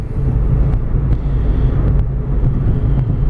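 A 2006 Acura RSX at highway speed, over 70 mph, gives a steady, loud low-frequency engine and road drone with wind rush, continuous and without talk.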